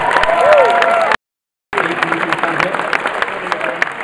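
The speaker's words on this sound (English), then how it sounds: "Round of applause to Steve" Live stage-show audience applauding and cheering: a dense, loud wash of clapping that breaks off briefly into silence, then resumes steadily with scattered vocal whoops.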